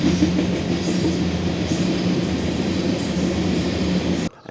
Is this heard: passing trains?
yes